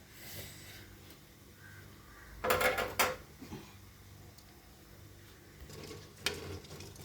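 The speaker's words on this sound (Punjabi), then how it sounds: "ਜੀਰਾ ਆਪਣਾ ਵਧੀਆ ਭੁੱਜ ਗਿਆ" Cumin seeds roast in a pan, a faint background sizzle broken by a couple of short metallic scrapes and clinks of stirring, with the loudest rattle midway and a softer one later.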